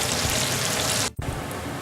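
Peppers and onions frying in a pan, a steady close hiss and crackle that cuts out briefly for a moment before resuming.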